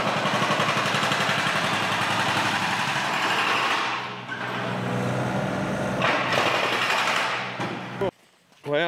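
Concrete is broken up at an engine test cell to replace the engine stand, a loud continuous rattling hammering with machine drone. It pauses briefly partway through and cuts off near the end.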